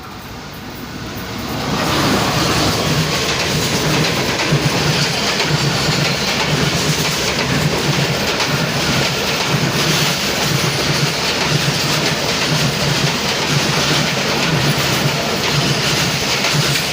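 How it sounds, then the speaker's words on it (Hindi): The 28 Down Shalimar Express crosses the 41 Up Karakoram Express at Chak Jhumra Junction railway station in Pakistan, a loud, close, continuous rumble with rolling wheel clatter that swells in after a quieter opening. "twenty eight down Shalimar express cross कर रही है 41 अप कराक्रम एक्सप्रेस को चक झुमरा जंक्शन रेलवे स्टेशन"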